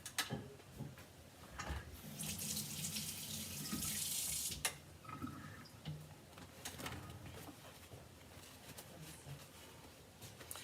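Tap water runs at a sink as glue is rinsed off fingers, a steady splashing rush that swells louder midway, with pigeons or doves cooing softly in the background and no talk.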